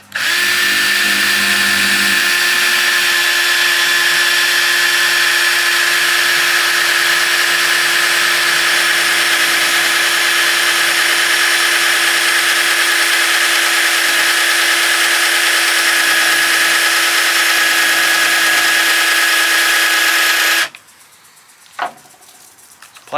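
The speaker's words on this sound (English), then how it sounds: "I'm gonna go ahead and drill the hole below" A power drill bores a hole into a hard plastic bypass oil filter housing on a Chevy 2500 with a 350 engine, a loud, sustained high whine running about twenty seconds before cutting off abruptly, followed by brief quiet.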